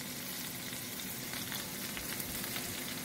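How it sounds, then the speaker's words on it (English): Steady, dense sizzling of leeks frying in coconut oil in a pan, a continuous crackling hiss with no voices. "So I'm braising some leeks here."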